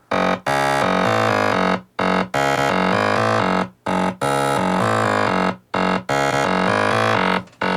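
A buzzy, distorted FM electro saw bass made with the FM8 synth plays chopped sustained notes with brief gaps between them, loud and harmonically rich.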